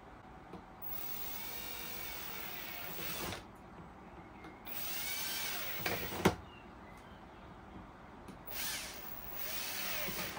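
A power drill runs in several short bursts during equipment repair near a radiator, each whine rising sharply and stopping, with quiet pauses between and faint handling noise.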